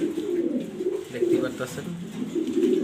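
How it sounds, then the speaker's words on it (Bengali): A pair of black exhibition pigeons with their uncommon young coo in low, repeated throaty bursts close by, steady across the moment, while someone talks over them. "আলামিন ফিজিয়ন লফটের এক্সিবিশন কবুতর ব্ল্যাক কালার"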